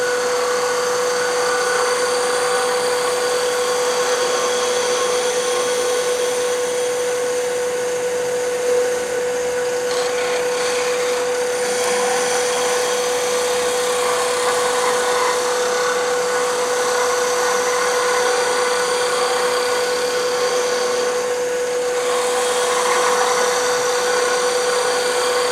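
Wood lathe spinning steadily while a skew chisel turns a magnetic pen holder, a constant high whine with a faint scraping texture that holds evenly throughout, no talk.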